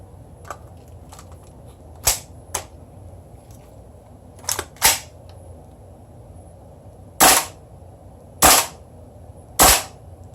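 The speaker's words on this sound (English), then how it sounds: "I have it set up in dry fire mode, so that will fire without BBs in it." A gas blowback airsoft M4 fitted with an AR15 charging handle dry fires with no BBs, giving sharp, loud mechanical snaps: a few lighter clicks first, then three crisp, evenly spaced shots close by.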